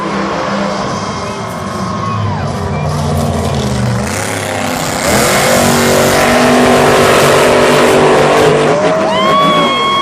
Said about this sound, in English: Dual race, but this is going to be a lot of fun to watch as Dennis Anderson and Great Digger goes aga